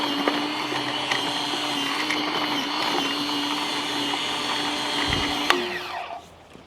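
A WORKPROX 40V cordless tiller cultivator runs in loose garden soil with a steady electric motor whine and gritty churning. The tines thump once briefly near the end before the motor winds down.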